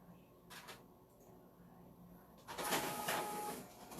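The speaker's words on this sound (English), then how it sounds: "Alright, so it's printing." A sublimation printer runs quietly indoors, with soft mechanical whirring and a few brief sliding thumps, growing louder as the print carriage moves near the end.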